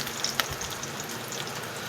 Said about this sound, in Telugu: క్యారెట్, బెండకాయ ఫ్రై చేస్తున్నాను